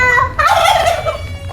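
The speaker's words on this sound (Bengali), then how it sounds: "মুরগি" A chicken at a mini zoo in Savar, Dhaka gives a loud, close, drawn-out clucking call that lasts about a second over a low background hum.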